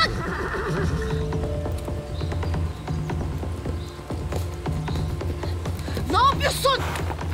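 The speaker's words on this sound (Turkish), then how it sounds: "Atın ayağı aksak Zeynep." A horse with an injured, lame leg whinnies in a loud rising-and-falling neigh near the end, preceded by scuffling hoof clops and stamping, with people's voices mixed in throughout.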